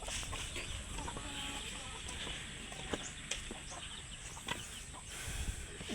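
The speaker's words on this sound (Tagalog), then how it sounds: "Tapos meron tayo ditong bagong pisa, 1 day old pala na chicken." Native backyard chickens and one-day-old chicks cluck and cheep in scattered short bursts, with a steady background hiss and no talk.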